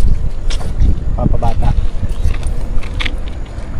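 Wind gusts across a fishing boat out on open water, a loud, buffeting rumble that never lets up, while people talk briefly over it.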